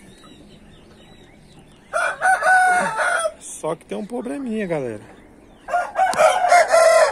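A young rooster with just a spur tip showing crows loudly and close by in a farm pen. Two long, wavering calls come in sequence, and someone talks briefly between them.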